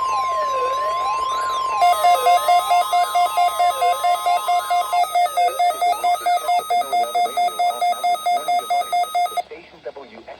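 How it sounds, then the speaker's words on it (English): NOAA weather radio warning alarm tone heard during a required weekly EAS test on stations KHB38 and WXJ94: a loud sweeping siren-like warble, then a steady pulsing tone in rapid even beats, cutting off near the end. "especially the warning alarm tone will vary at any given location"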